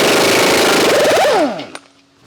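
An impact wrench with a 36mm socket hammers an axle nut loose on a 2011 Honda Accord during wheel bearing work, a loud, rapid rattling burst that winds down with a falling whine and a final clunk.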